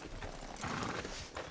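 A horse in a video game clip-clops and gives a neigh, with the hoofbeats and whinny heard close and clear.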